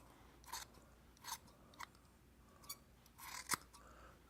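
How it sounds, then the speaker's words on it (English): Sharp shears snip through woolly leather to trim a leather koosie, giving about six separate crisp cuts spaced roughly evenly, close and fairly quiet with no talking. "So now we can take our shears and we can trim it down"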